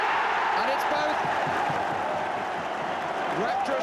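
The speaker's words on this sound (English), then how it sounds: "Rapturous applause around the Victoria ground." Rapturous crowd applause fills the Victoria Ground at Stoke during a football match, a dense, steady roar of clapping and cheering that stays loud and continuous throughout.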